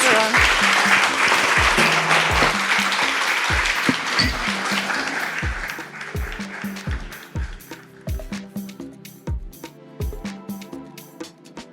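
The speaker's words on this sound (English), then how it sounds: "Round of applause, please." Audience applause at a book festival event in Belfast, dense at first and then thinning into scattered claps.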